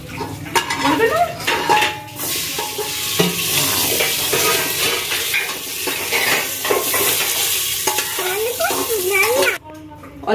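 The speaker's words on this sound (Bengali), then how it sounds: "আমি এবারে তেজপাতা ফোড়ন দিচ্ছি" Bay leaves crackle and sizzle in hot oil in a pan, a steady frying hiss with clinks of a utensil against cookware, and a voice speaking over it from time to time.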